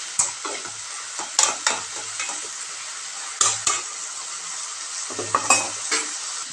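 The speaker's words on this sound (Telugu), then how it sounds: "కలిపేసి మీడియం ఫ్లేమ్ మీద మూత పెట్టి ఫ్రై అవనిద్దాం." Ridge gourd pieces frying on a medium flame, a constant close sizzle broken by repeated sharp scrapes and clinks of a spoon stirring against the pan.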